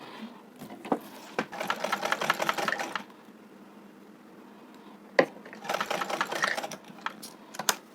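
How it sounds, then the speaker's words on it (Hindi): A sewing machine stitches a small doll dress in two steady, rapid runs of several seconds each, separated by a pause with a few light clicks, close and clear with no talking. "तो चलिए हम इसको सील लेते हैं, फिर आपको दिखाते हैं।"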